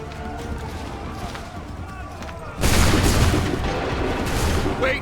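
Musket volley fired on command in Assassin's Creed III: after a stretch of quieter battlefield noise, a sudden loud crash of many shots erupts at once and leaves a sustained, roaring wash of sound.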